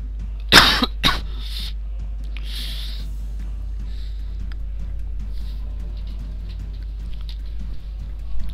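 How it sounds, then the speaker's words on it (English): A couple of harsh, close coughs burst out near the start, then fade into quiet with a low hum and faint shuffling sounds, during Rome: Total War gameplay commentary. "Sorry about that cough."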